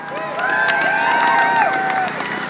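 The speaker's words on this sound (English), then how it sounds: "So let's give her a big round of applause." Crowd cheering and whooping outdoors at a protest rally outside a convention center, rising shouts and raised voices over a continuous crowd din.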